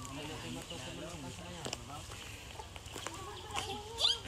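Chickens cluck and call intermittently nearby on a farm, set against voices and background activity.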